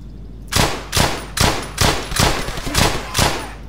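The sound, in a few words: machine gun fire in the video game Brothers in Arms: Hell's Highway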